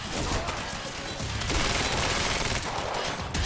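Heavy gunfire in Quantum Break, a dense, loud fusillade of rapid shots and machine-gun bursts packed tightly together, with a crashing edge and no pause through the short stretch.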